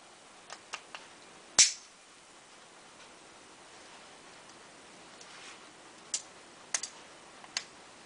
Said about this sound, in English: start with pulling the three Torx bolts out. Crack them all loose first.